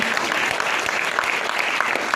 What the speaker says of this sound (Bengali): একটা জোরে হাততালি পদ্মশীলের জন্য